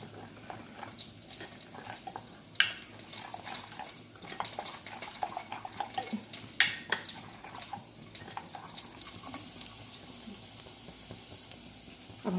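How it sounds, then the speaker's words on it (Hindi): A spoon stirs buckwheat flour and plain yogurt batter with a little water in a bowl, giving soft, irregular scraping and clinking taps throughout. "हम इसको अच्छे तरीके से मिला लेंगे।"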